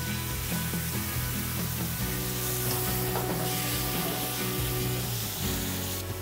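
Lamb stir-fries in oil with sorghum liquor added, a loud, steady sizzle and hiss filling the pan alongside scraping stirs, close and continuous throughout.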